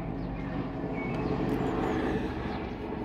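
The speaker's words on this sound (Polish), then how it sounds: "Akurat samolot tam w oddali leci." A propeller airplane drones in the distance, a steady, broad low rumble that holds at an even level through the whole stretch with no speech over it.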